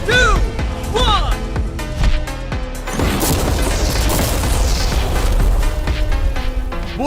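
A regular car is blown up with mannequin passengers inside, and the blast tears off its sunroof. A loud, sustained roar of explosion and crashing debris follows several sharp booms, with some voices near the start.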